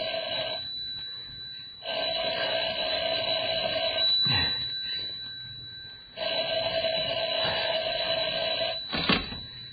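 An old-style telephone bell rings in two long, steady bursts separated by a pause, loud and close, with faint room noise and a short knock between the rings.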